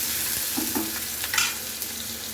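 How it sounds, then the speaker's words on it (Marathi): Onion tossed into hot oil with cumin seeds fries and sizzles steadily, with a few soft scrapes of stirring against the pan, close and fairly loud, with no voices. "ग्रेव्हीसाठी मस्त कांदा असा परतवायचा आहे"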